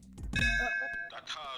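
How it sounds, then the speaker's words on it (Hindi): A bell rings out with a bright metallic clang and sustained ringing tones that fade over about a second, heard near and clear with someone speaking before and after it. "देखो, बेल बजी"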